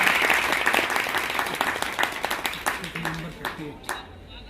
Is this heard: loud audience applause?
yes